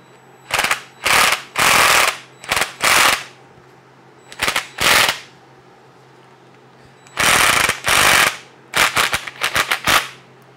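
Impact wrench loosening the internals of a Honda Grom motorcycle fork, firing in a string of loud, close rattling bursts of about one second each, separated by short pauses, with no talk over it.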